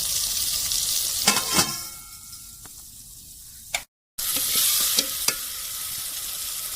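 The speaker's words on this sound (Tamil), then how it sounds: "அடுத்து வந்து கால் கிலோ தக்காளி போடுறோம் தக்காளி நல்லா வதக்கணும்" Tomatoes sauté in a pan for a village-style jilebi fish curry, with a bright, steady sizzle broken by scraping stirs and small clicks of a spoon, close by, with a brief silent gap midway.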